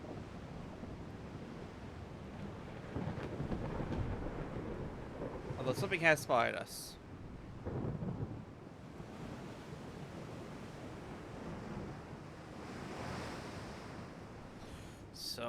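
Stormy sea and gusting wind roar steadily in a naval battleship game, with a few brief crackling bursts midway; someone talks over the weather noise.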